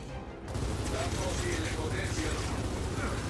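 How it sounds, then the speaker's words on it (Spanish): Gunfire in Gears of War 4 campaign gameplay: a dense, sustained burst of rapid shots with mechanical clatter runs loud and continuous after a brief quiet start. "Le disparo eso a ver si caen o algo así o explotan"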